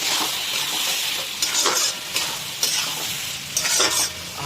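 Fish head curry with cabbage, peas and a splash of water stirred in a hot pan, a steady close sizzle broken by a few scraping strokes of a spoon against the pot.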